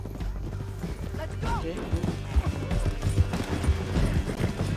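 Hooves clop rhythmically under steady motion in a video game, with a horse whinnying briefly and people talking over the riding sounds.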